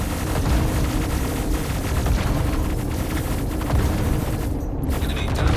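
Medusa cannon fire in the Star Citizen space game rumbles as a dense, continuous barrage of booms and blasts, loud and sustained throughout with no clear pauses.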